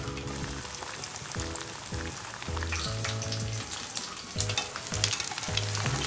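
Black eggplant chutney sizzles and fries in a pan while being stirred, with steady crackling and repeated scraping strokes, no voices.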